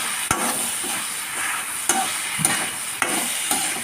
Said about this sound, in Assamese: মই লাই শাকখিনি 5 মিনিটৰ পিছত এবাৰ লৰাই দিছোঁ।